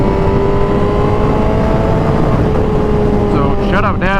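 A Yamaha R7 motorcycle engine roars loud and steady at high revs through clutchless gear shifts, a continuous close drone with a brief rising-and-falling warble of revs near the end.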